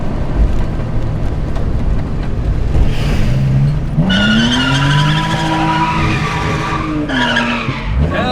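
A car driven hard on a rough road skids, with a loud drawn-out tire squeal and an engine whose pitch climbs and falls, close and dominant with no talk.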